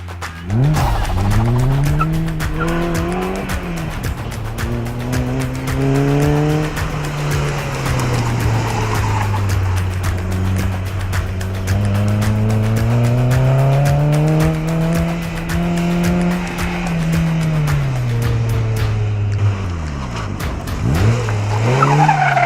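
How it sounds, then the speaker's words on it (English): A slippery Caterham sports car drifts through a gymkhana course, its engine revving up and down in long sweeping swells while tires squeal and skid almost continuously, loud and close. "before both going for the slippery Caterham"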